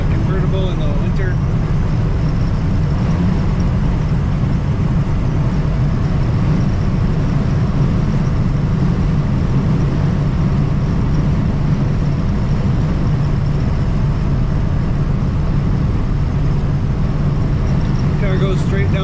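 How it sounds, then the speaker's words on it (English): Steady, roaring wind buffets a 1967 Buick GS 400 convertible driving on a winter road, a loud, unbroken low rush blended with road and engine hum that holds constant from start to finish. "Wind noise from a convertible in the winter."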